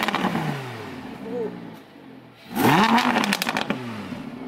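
A supercar engine revs hard, rising in pitch in bursts with crackles and pops, loud and close, after a quieter idle and some low background noise.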